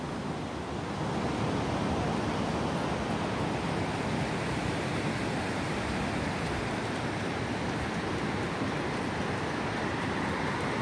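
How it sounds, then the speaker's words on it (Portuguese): Sea waves rolling onto the beach at Navegantes on an overcast morning, a steady, broadband wash of surf that holds at an even level throughout, with no voices. "bem na beira da praia. O mar tá aqui, ó."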